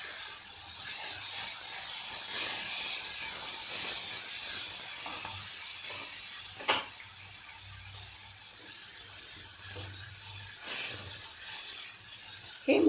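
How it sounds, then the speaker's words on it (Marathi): Chopped vegetables for a chana dal rasam soup sautéing in a little oil, a steady steamy hiss with occasional soft stirring scrapes, fairly close and continuous with no talking. "मी याला थोडंसं तेलावर सातळून घेते आहे"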